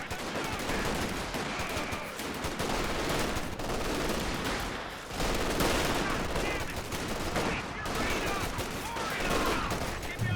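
Anti-tank guns and small-arms fire crackle densely throughout a Company of Heroes 2 battle against a Tiger tank, loud bursts layered with constant gunfire and battle noise.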